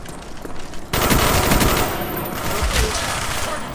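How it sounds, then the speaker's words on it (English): A turret in Call of Duty Black Ops on the Summit map opens up with loud, rapid automatic fire, a dense continuous rattle of shots that kicks in abruptly and keeps hammering to the end. "Let me set up the turret."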